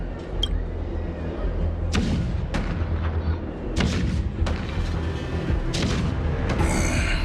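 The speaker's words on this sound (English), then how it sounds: "The rumble of the cannons." Repeated deep booms of cannon fire in Honkai: Star Rail rolling out at uneven intervals over a constant low rumble, distant and heavy.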